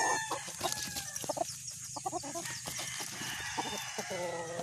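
Young stag roosters cluck in quick repeated bursts with a crow rising among them, close and fairly loud, on a farm visit in Candelaria, Quezon.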